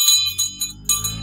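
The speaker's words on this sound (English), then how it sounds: "Barry gave me this antique bell to ring." An antique hand bell is rung several times in quick succession, each bright metallic strike ringing close and loud before the next.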